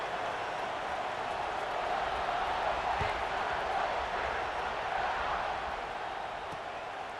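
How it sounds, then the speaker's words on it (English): Dense football stadium crowd noise at a college game between Alabama and Ohio State, a steady broad roar that holds at an even, loud level throughout with no single distinct cheer rising out of it. "this crowd is buzzing after that last score"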